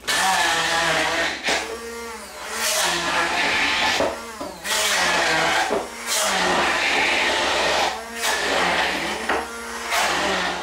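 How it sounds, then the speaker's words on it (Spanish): A hand-held electric mini blender whisks a salt and pepper sauce until it emulsifies, its motor whirring in loud bursts separated by short pauses. "Lo batiremos con un mini pimer o con cualquier batidor eléctrico."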